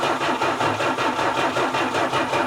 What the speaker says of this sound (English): I'm gonna crank it without giving it any throttle, just to build some oil pressure to begin with